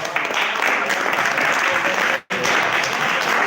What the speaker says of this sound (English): Okay, clap for Gaurav.